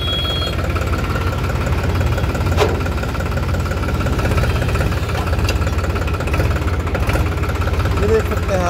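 A New Holland 3600 or 3230 tractor engine runs in a steady, loud, continuous diesel rumble with a fine rhythmic knock, filling the whole stretch without pause.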